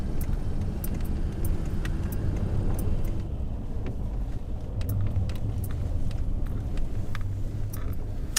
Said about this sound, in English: we are driving back to Fairbanks